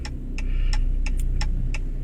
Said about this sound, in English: Put on my blinker lights.